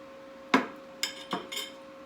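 Cooked country ham set onto a plate, giving one sharp clink followed by three lighter knocks of meat and utensil against crockery, close and fairly quiet over a steady background hum.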